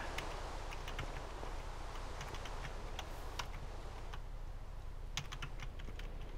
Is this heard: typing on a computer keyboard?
yes